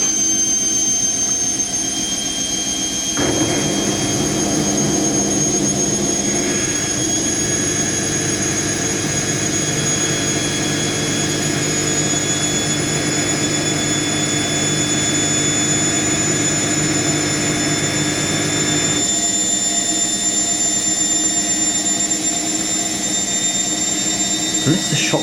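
An Indesit IWC71452 washing machine runs its Whites 90°C programme, giving off a steady mechanical whirr and rumble that grows fuller after a few seconds, holds for a long stretch, then eases back near the end.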